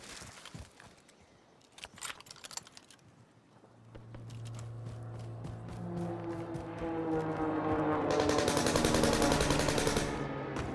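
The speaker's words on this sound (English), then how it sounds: "I heard gunfire over there" Scattered gunshots crack in the distance, then a vehicle engine hums and a rapid burst of automatic fire rattles loudly before fading.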